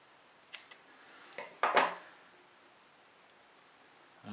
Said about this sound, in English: We just need to cut that tag end off there